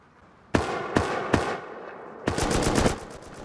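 Gunfire in the survival game Rust: three sharp, loud single shots spaced under half a second apart, a short pause, then a fast rattling burst of rapid fire that trails off.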